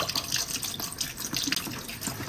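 Water poured into a pot of braised pork intestines with hotpot base, a close splashing and gurgling stream running throughout.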